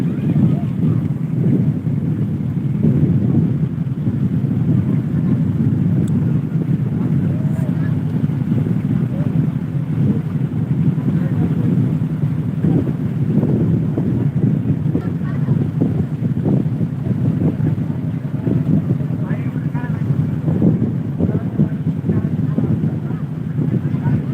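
A boat moves across a wetland lake, a steady low rumble mixed with wind buffeting the microphone, continuous and fairly loud throughout.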